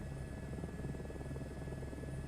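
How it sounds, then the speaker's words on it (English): A helicopter in Microsoft Flight Simulator 2024 gives off a steady, droning rotor and engine hum at an even level, without any voices. "I'm pretty sure a helicopter would just take off and not do any of this"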